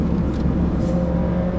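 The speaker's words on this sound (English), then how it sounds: "I do like the fact that you have the engine right in the back. You can hear it." An Alfa Romeo 4C's mid-mounted engine runs from inside the cabin, giving a steady, close, low mechanical drone with no pauses and no talking.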